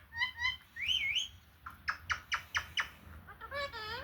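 A pet bird in a home gives a series of bright chirps, whistles and squawky calls, repeated in quick bursts close by, with brief gaps between them.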